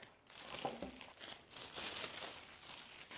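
Plastic packaging around a 7-inch plasma ball crinkles and rustles as it is opened, quiet and close, in a few uneven bursts.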